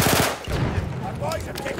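Rapid machine gun fire in Battlefield 1 at the Fao Fortress battle, a dense burst at the start and then sustained loud combat noise with scattered shots, under faint battlefield voices.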